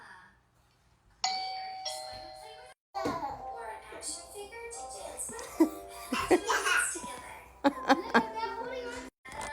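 A Wyze video doorbell sounds its chime in a home, a clear multi-tone ring that follows a short pause, then lingers while children giggle and laugh and an adult speaks nearby.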